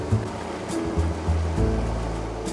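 Rushing water pours over the falls at Jakcheonjeong on Jakgwaecheon stream beneath Ganwolsan in Ulsan, a steady full-bodied roar close by with a few brief louder splashes and low thumps, with no voices.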